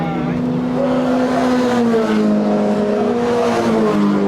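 Formula Ford 1600 race cars at a historic circuit festival, a Van Diemen among them, heavy on the brakes into turn one; a loud, steady engine drone with shifting tones and tyre noise fills the whole stretch.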